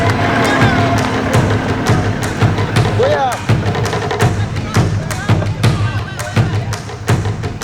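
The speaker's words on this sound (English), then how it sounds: "we were met with cheers and applause." Villagers in the Central African Republic cheer and clap near a war-zone camp, a loud dense crowd din with sharp claps and thumps running throughout, voices mixed in.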